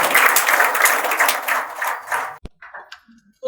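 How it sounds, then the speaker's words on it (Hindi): Audience applause at a business training program, a burst of clapping for an invited doctor that fades after about two seconds, leaving scattered faint taps and a brief sharp knock. "उनके लिए एक जोरदार तालियां चाहो।"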